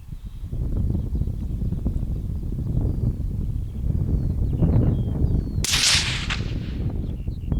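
A single .17 HMR rifle shot fired at a range while zeroing a new rifle at 50 yards, a sharp broadband crack near the end standing out over steady wind noise.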